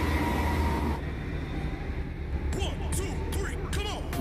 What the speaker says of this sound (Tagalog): Tram po ang dumadaan dito.